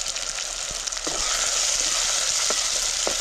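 A ground paste of dried coconut, garlic and sesame added to a pan with tomato, the sizzle jumping louder about a second in and then holding steady, with a few soft stirring knocks, close and without talk.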